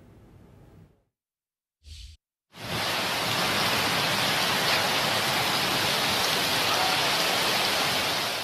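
Heavy rain pours down on Lahore, a dense, steady roar of falling water that starts after a few short gaps and then holds loud and unbroken.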